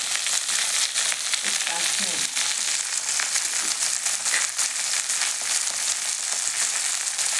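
Hot oil sizzles and fries steadily in a pan during chutney making, a dense continuous crackle with a few faint clinks underneath.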